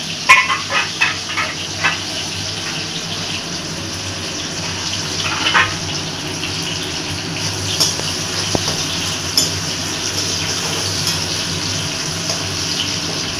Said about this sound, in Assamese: মাতটো ৰাইজ স্পষ্ট নহ'ব পাৰে চিমনিটো যিহেতু চলি আছে